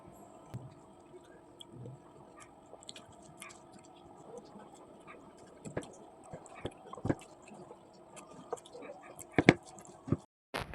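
Someone chews close to the mic while eating rice with mashed potato, soft wet squishing and biting in an uneven rhythm, a few sharper clicks near the end, over a quiet room.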